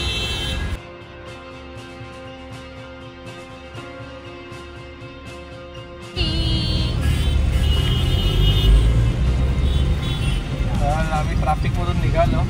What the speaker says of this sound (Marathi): इथूनच खूप ट्रॅफिक असते ठाण्याला जायला